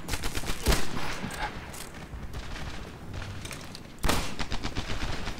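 Gunfire in the World War II shooter Medal of Honor Airborne: loud, dense bursts of rifle and machine-gun fire with booming hits, with a sharp blast near the start and a heavy volley resuming near the end.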